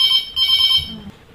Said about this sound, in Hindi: जा बज रही अपने फोन की घंटी